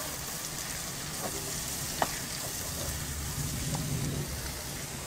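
Shredded cabbage sizzles steadily in a hot pan while it is stirred with spices, a constant frying hiss with a few faint scraping clicks.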